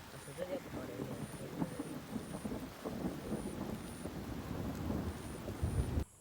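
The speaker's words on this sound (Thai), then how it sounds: "ตอนนี้คือฝนตกด้วยนะทุกคน ดู ฝนตกด้วยนะ" Rain falling during a thunderstorm outdoors, a continuous patter with rumbling thunder underneath and a repeating high chirp in the background, ending abruptly.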